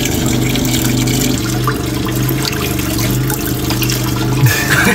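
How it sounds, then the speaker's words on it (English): Water gushing at a small gold mine. A steady, loud rush and splash continues throughout, with a droning generator underneath and no clear speech. "Okay, here comes the water."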